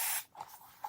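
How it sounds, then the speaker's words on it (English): A handheld spray bottle gives one short, sharp burst of water mist, followed by faint clicks and light handling noises nearby while colors are mixed for a craft card background. "So I'm just going to spray some water in there"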